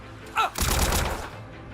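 A short burst of rapid gunfire in the video game Trails through Daybreak 2, a loud crackling volley lasting under a second, just after a brief cry.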